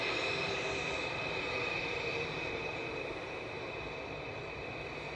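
A Boeing 737-800 airliner departs Manchester Airport with a steady, moderately distant engine roar and a faint high whine, easing slightly in level over several seconds.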